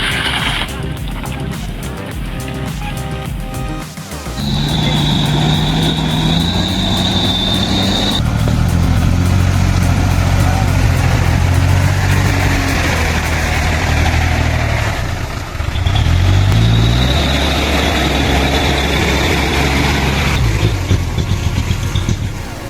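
A heavy off-road truck engine idles and then revs up loudly, roaring with a low, rumbling drone that rises and falls across the clip.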